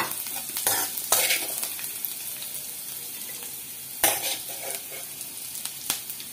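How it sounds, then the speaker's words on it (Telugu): Veldt grape stems frying in a pan for chutney, a steady close sizzle with occasional stirring scrapes and clatters, no talking. "నల్లేరు కూడా వేగిపోయినాయి"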